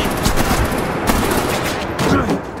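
Gunfire in the Batman: The Enemy Within video game, a dense continuous barrage of shots filling the whole stretch, loud and close, with little sign of talk.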